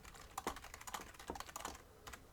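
Rapid, uneven clatter of typing on a computer keyboard, keystrokes close and distinct in quick bursts with brief pauses, no voices present.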